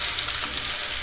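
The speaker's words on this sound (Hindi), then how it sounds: "बारीक चॉप किया हुआ प्याज डाल देंगे और अच्छे से इसको फ्राई करेंगे" Finely chopped onion fries in hot oil with cumin seeds, giving a dense, continuous close sizzle with no pauses or voices over the brief moment.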